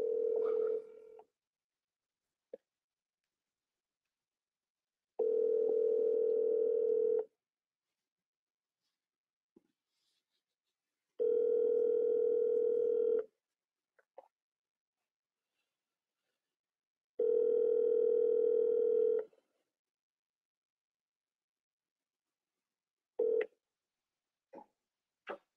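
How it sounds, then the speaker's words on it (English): A telephone line gives a steady electronic tone in three evenly spaced two-second bursts separated by silence, followed by a few short, sharp clicks and beeps, as a number is dialed. "We're going to double dial him straight back."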